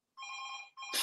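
A phone rings during a recorded discussion, with two electronic trills separated by a brief gap, sounding moderately loud and close, followed by a burst of noise at the end.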